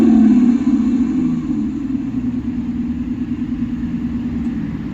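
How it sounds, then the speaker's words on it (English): A ZEEKR X electric car playing its simulated sports car engine sound, a loud, low, steady engine drone that swells at the start and then settles into a sustained, even hum, with no talking. "there's a sports car sound it can make"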